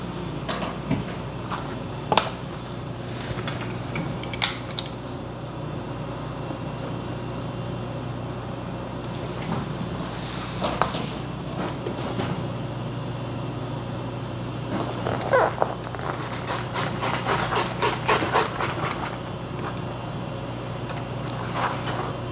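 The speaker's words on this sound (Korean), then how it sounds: "옆에 부분을 조금 더 잘라 줘야겠네요" Fabric for a large bag being cut, heard as soft scattered snips and scraping sounds over a steady low background hum, with quicker clusters of cuts toward the end.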